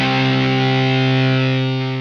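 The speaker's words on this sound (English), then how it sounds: "The power in power chords comes from using these simple dyads on an electric guitar played" An electric guitar played through distortion rings out a loud, thick power chord built from simple dyads, held and sustained alone before slowly fading toward the end.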